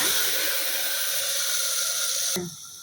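Water splashed into a hot pan of fried cashews on a lowered flame, a steady broadband hiss of sizzling steam running loud and unbroken before cutting off abruptly near the end.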